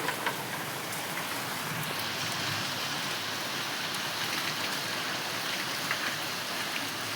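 Heavy rain pours steadily after a long dry spell, a dense, even roar of drops hitting surfaces outdoors that holds constant throughout with no voices.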